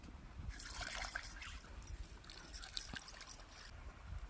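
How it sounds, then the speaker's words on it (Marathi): Water splashes and trickles over a stone grinding slab as it is rinsed before grinding onion, coconut, ginger and garlic for a mutton masala; a faint, continuous wet patter with a few drips, no one speaking. "तर सगळ्यात अगोदर आपण पाटा धुवून घेऊया."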